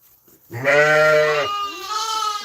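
A pregnant Angora goat on a farm gives a loud, drawn-out bleat, close by, followed by a softer, wavering second call trailing off.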